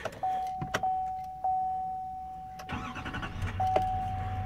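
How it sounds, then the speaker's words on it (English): A 2017 Chevrolet 2500HD with the L5P Duramax diesel: chimes and clicks, then the starter catches and the engine settles into a low, steady idle close by. "I will go ahead and start the truck."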